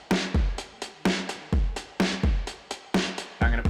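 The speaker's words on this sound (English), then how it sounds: "just bypass, the drums sound like this." A dry, unprocessed drum loop from a Logic Pro mix plays with the distortion plugin bypassed. Punchy kick and snare hits land in a steady groove with bright cymbal wash, loud and upfront, with no voices.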